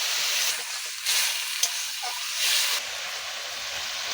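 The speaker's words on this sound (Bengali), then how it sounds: "অল্প একটুখানি আমি জল দিয়ে দিচ্ছি" Hot cooking pan sizzling and hissing as a little water goes in, a bright steady steam hiss that swells in a few surges and then eases to a softer fizz, close by with no talking.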